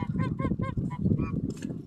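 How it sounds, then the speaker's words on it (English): Muscovy ducks approach near the water, giving a quick series of loud, honking calls in an uneven rhythm, close by and alone. "Oh, we got some Muscovies coming to have a look."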